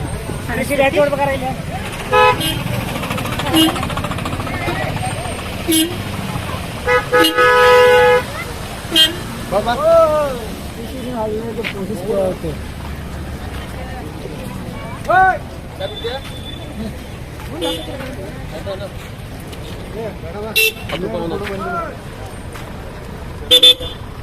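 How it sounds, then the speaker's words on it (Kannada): Road traffic and repeated car and bus horn toots near Gokak Falls, Karnataka, loud and close in a crowded spot, with several sharp honks cutting through engine noise while people talk throughout. "ಎಲ್ಲ ಕಡೆನೂ ಗಾಡಿ ಸೌಂಡ್"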